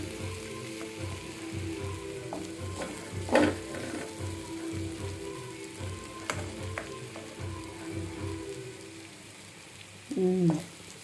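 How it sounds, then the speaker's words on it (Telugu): Raw banana curry frying in a pan, stirred after ten minutes of cooking: a soft continuous sizzle with a few louder spatula scrapes and clatters, one near the start and another near the end. "ఒకసారి కలుపుకుందాం."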